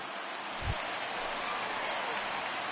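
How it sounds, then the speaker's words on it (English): Steady rain hiss in MLB The Show 19, a baseball video game, spread evenly and continuously with a brief low thump near the start, no voices. "There is rain in the area"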